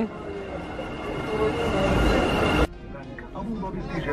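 A packed Dubai metro train rumbles along with steady rail noise and crowd murmur, then cuts abruptly to a quieter interior as the ride noise drops off; voices are heard amid the din.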